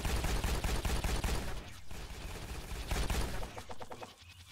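Enemy gunfire in The Pit video game, rapid bursts of shots crackling over a couple of seconds, then sparser, quieter shots trailing off.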